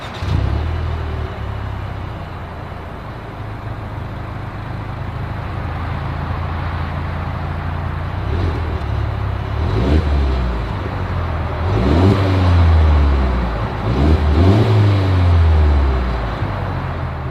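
A 2022 Mercedes-Benz GLE 350 with dual exhaust idles with a steady low drone, then revs several times, rising and falling in swells, loud and close to the tailpipes.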